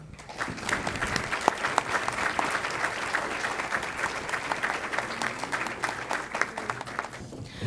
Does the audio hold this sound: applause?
yes